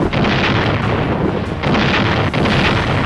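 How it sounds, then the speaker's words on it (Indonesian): A Korean War artillery gun fires, heard as a loud, sustained booming roar with continuous heavy rumble and no quiet pauses. "Number 1 gun, fire!"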